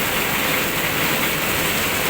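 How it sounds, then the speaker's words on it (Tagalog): Steady, dense hiss of heavy monsoon rain pouring down without a break at Lancaster New City, Philippines, loud and close, with no voices. "malakas ang ulan"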